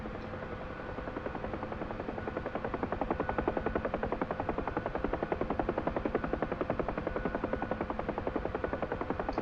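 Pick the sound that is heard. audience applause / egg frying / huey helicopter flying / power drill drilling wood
huey helicopter flying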